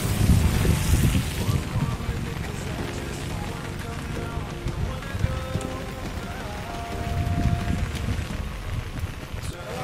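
Rain drumming steadily on an open umbrella held overhead while walking at a flooded crossroads during a heavy downpour, a dense close patter with low rumbling texture, louder at the start and end.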